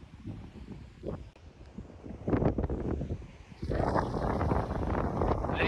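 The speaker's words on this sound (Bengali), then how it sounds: "প্রচন্ড হাওয়া বইছে গাইজ।" Strong wind buffeting the microphone near a river bridge, rumbling gusts that swell and then roar steadily louder in the second half, with no voices.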